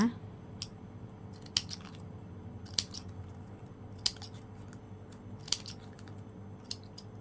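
Scissors trim the end of a ribbon on a hand-folded ribbon coin garland, with several crisp, close snips at irregular intervals over a low steady background hum.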